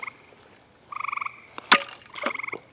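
Frogs croak outdoors in short pulsing trills, with several bursts and a sharp knock in the middle, fairly close and clear against quiet background.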